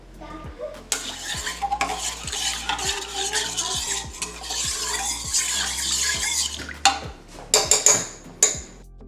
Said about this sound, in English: I'm gonna stir this and let this sit until it is nice and foamy and frothy